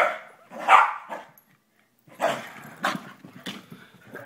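A Westie and a Yorkie play together, giving short sharp barks and yips in two bursts separated by a brief quiet pause, with the bursts sounding close.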